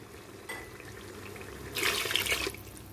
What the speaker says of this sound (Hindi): मिक्स करने के बाद इसमें हम हाफ गिलास पानी डालेंगे।